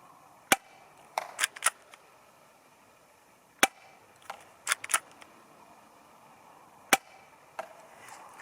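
A CZ75 SP-01 Shadow spring airsoft pistol, an inexpensive springer, fires crisp snapping shots at irregular intervals, some single and some in quick clusters, with faint clicks between them and no talking.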